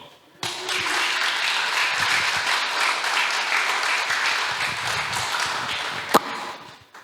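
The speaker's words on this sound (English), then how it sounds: "Give him a round of applause for me, y'all." An audience claps for Michael Terpin at a talk event, the applause rising sharply after a short quiet start, holding steady with one sharp clap standing out near the end before fading.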